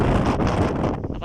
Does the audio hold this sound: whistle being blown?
no